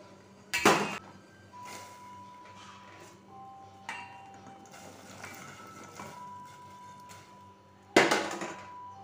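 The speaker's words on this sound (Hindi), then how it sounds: "जो हमने ये बेसन की रिंग बना के रखी थी वो मैं इस पानी में डाल देती हूँ उबलने के लिए" Besan (gram flour) rings drop into a pot of hot water on a kitchen stove, with two sharp clattering splashes standing out over a faint, steady background and a few light clinks of utensils.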